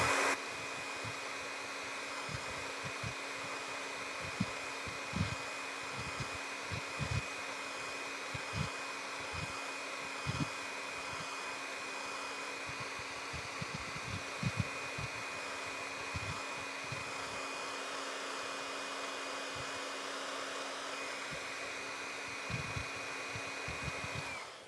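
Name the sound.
drying a craft project with a hair dryer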